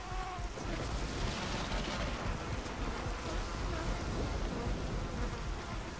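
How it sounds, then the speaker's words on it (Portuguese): Dense insect buzzing from a swarm of flies in God of War III, a steady close drone that fills the whole stretch, with game ambience underneath. "As moscas continuam aí, ó."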